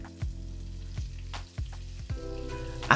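Spices and then onions fry in hot coconut oil in a pan for an Indian-style shakshuka. A steady, close sizzle runs throughout, broken by several clattering stirs.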